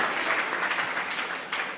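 Spiritual discourse attendees break into loud applause for a donation, a short, dense burst of clapping from a crowd that stays strong with a slight swell near the end.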